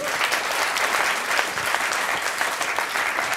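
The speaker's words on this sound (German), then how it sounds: "ein kurzer Applaus für ihn." Steady, dense applause from an audience at a science slam in Erfurt fills the room evenly throughout, with no talking over it.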